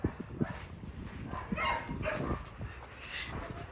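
A dog at a Filipino home barks and yips in a short burst of sharp, fairly close calls mixed with whimpering, rising and falling irregularly over a few seconds.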